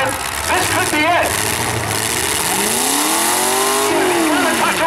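Trucks battling in a demolition derby heat at Brooklin, engines revving and rising in pitch amid crashes and crowd noise, with an announcer talking over them.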